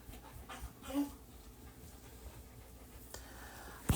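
A dog pants and whimpers softly nearby, its breathing faint and steady against a quiet room, ending with a brief knock.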